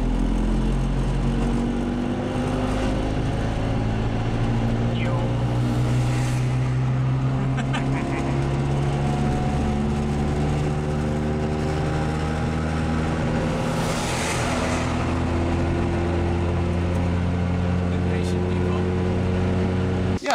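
A 1994 Piaggio Vespacar P2 three-wheeler's small engine runs steadily and close, a continuous buzzing drone with shifting pitch as it revs, heard on its own.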